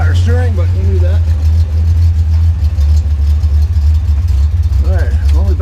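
A Datsun 240Z engine idles with a loud, steady low rumble before its first drive, and someone talks over it at the start and again near the end.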